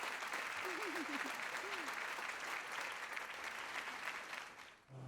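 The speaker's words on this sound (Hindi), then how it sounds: "लड़कियां इसके लिए ताली बजा रही हैं बॉस।" Girls clapping in applause, a dense, even patter of many hands that runs for several seconds and then fades out, with a brief tonal sound early on.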